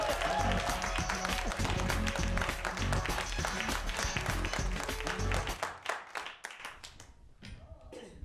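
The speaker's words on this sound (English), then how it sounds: "a big round of applause for Vikram Balaji" A comedy club audience claps loudly for a stand-up comedian, dense steady applause that thins out and fades into scattered claps near the end.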